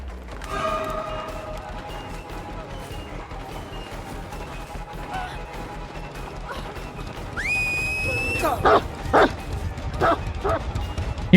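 Houndmaster's dog in a video game, several sharp barks and yips close by near the end, following a rising whine, amid mechanical clanks and game sounds.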